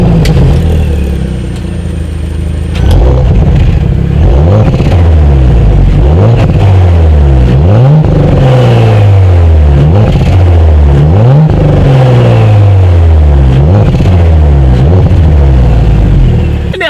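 A 2018 Audi S4 revs hard through its quad exhaust outlets, loud and close, with repeated sharp climbs and falls in pitch over a steady deep rumble.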